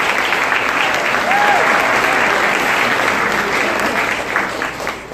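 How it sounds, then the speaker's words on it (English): A large audience at the OneWorld 2018 event applauds steadily and loudly, a dense, continuous wash of clapping with crowd noise that fades slightly toward the end. "Please give yourselves a round of applause."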